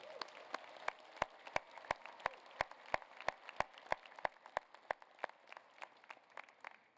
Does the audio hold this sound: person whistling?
no